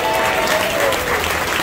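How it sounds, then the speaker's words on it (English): An audience at a restaurant gig by a high school jazz band claps loudly and steadily, a full wash of applause with some voices faintly audible underneath. "give a round of applause for Main Street Restaurant for having us"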